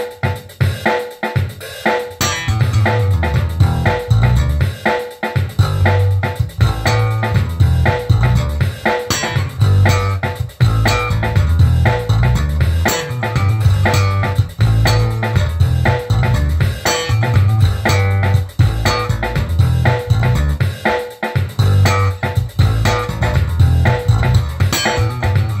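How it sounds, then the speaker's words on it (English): A grooving guitar lick plays along with a punchy drum machine beat, dense and loud throughout with steady percussive hits driving the rhythm. "And then when you put it with a drum machine, it sounds like this."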